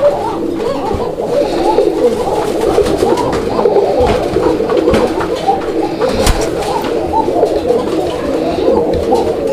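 Raj-golla pigeons coo steadily and continuously close by, several birds overlapping in a soft, throaty, repeating murmur with no pauses.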